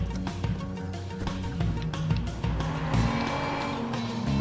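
A car revving and driving hard in the video game Watch Dogs, engine surging with a sustained tire squeal and skid, loud and continuous with no talk.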